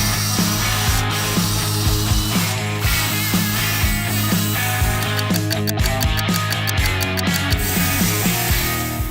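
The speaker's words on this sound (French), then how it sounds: "Et je vais continuer à couper avec le cutter." Utility knife sawing through many stacked layers of cardboard up close, a busy rasping scrape with repeated short strokes and a rapid run of ticking clicks partway through, background music underneath.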